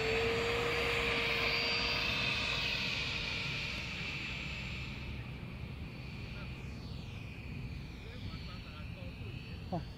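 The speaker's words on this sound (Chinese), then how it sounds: "起飞。" Model airplane at a flying field taking off, a loud high-pitched engine whine that rises and gradually fades as it climbs away, with voices faintly around it.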